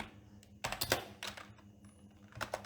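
Typing on a computer keyboard while writing code, a few quick clusters of close, soft key clicks with short pauses between bursts.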